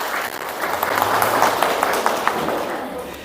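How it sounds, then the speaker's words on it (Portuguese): Audience applause for community guests at a suicide-prevention lecture in Laje do Bugre: a steady wash of clapping from a seated crowd throughout, fairly loud and even, with individual claps standing out now and then. "Palmas a vocês, tá bom?"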